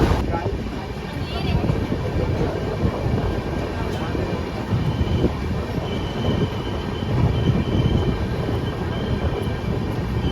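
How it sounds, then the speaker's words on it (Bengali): Inside the Black Diamond Express passenger train as it pulls out of Kulti station, a steady rumble of wheels and rail noise rolls on with faint squeals and brief voices. "ছেড়ে দিল আমাদের ট্রেনটি কুলটি স্টেশন থেকে"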